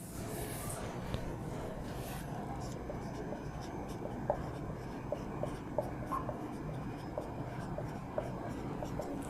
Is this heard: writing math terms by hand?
yes